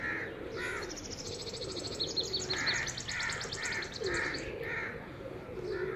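Pigeons coo steadily at a pigeon loft, a layered chorus of soft repeated calls close by, with rhythmic higher chirping running through the middle and no talk over it.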